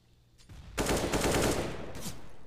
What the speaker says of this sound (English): Patient shots from P250 from dupreeh